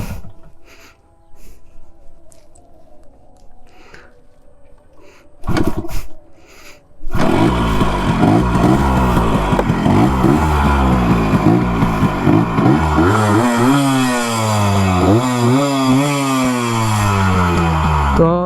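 A Yamaha RX100 motorcycle, about 30 years old, starts after faint kicks and bursts into a loud, close two-stroke engine note. It then revs repeatedly with rising and falling pitch that keeps steady throughout.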